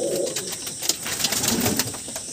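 Madrasi and Kaldum pigeons in a loft, with soft, continuous low cooing from several birds close by, steady and unbroken with no voices.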